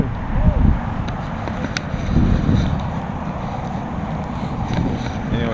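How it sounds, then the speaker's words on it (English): Strong wind gusts along the Ana River trail after a windstorm, a loud, steady rumbling roar of wind buffeting the microphone with surges and lulls, and people talking briefly. "The wind is bad."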